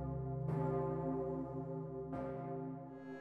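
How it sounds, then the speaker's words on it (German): Large church bells toll slowly for a Habsburg funeral, two deep resonant strikes spaced well apart, each ringing on with a long humming decay, heard alone at moderate distance. "Glockenläuten war aber auch das Zeichen von Kontinuität und Zuversicht."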